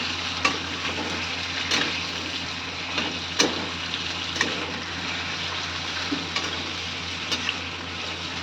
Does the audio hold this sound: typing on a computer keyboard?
no